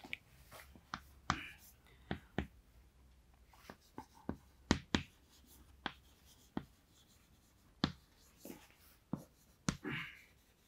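A pen writes a chemistry formula by hand on paper, giving sharp, scattered scratches and taps at an uneven pace, fairly close and quiet, with soft talk in the background.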